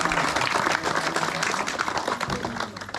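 A crowd at a religious gathering for the breaking of a fast claps together, a dense, steady patter of many hands that stays loud throughout.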